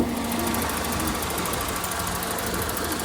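Old 1990s car engine running at idle in an open-air used car market, a steady rough hum with a faint rattling texture, fairly quiet and continuous with no talk.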